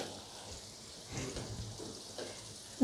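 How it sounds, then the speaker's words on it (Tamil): Onions and garlic sautéing in a pan for fish curry give a soft, steady sizzle with faint crackle, fairly quiet and continuous, with no talking over it. "வெங்காயம் எவ்வளோ அழகாக வதங்கிட்டுருக்கு பார்த்திங்களா."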